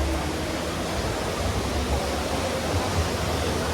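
A fountain in New Market, Kolkata splashes in a steady, dense rush of falling water, continuous and fairly close, with no voices over it.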